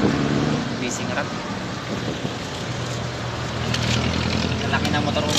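A boat's large outboard motor running on the Pasig River while fishing for tilapia, a continuous close engine drone with water and wind noise, as people talk over it.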